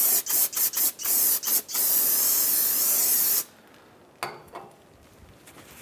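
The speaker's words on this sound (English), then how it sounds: "we're going to take some brake clean again, and we're going to clean off the surface where our pads are going to meet" Aerosol brake cleaner sprayed onto the brake rotor of a 2007-2015 Mazda CX-9 during suspension knuckle work: several short loud hissing bursts, then one long sustained spray, followed by quieter handling sounds and a brief final puff.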